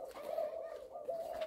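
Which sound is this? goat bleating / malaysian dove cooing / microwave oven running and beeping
malaysian dove cooing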